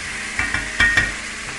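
Chicken breast sizzles in a hot pan with a few soft knocks of a utensil stirring, brief and close, no talking.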